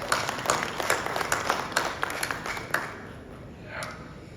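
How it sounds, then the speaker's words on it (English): Audience applause at an East African textile, leather and fashion event, moderately loud clapping that thins and fades out after about three seconds, leaving a faint hum. "I think he has deserved a big applause"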